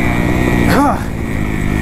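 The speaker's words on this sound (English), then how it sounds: "God, that is a rough landing. I just landed on a braking bump." Dirt bike engine roaring steadily on a motocross track as the rider lands hard on a braking bump, with a brief rising-falling engine whine at the impact and loud continuous engine noise throughout.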